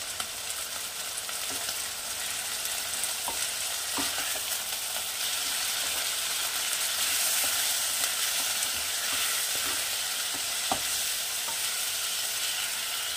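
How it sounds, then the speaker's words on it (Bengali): Chicken seasoned with salt and turmeric sautés in a pan for chicken tehari, giving a steady, close sizzle throughout, with occasional sharp clicks of stirring. "এটাকে আমি ভালো করে কষিয়ে"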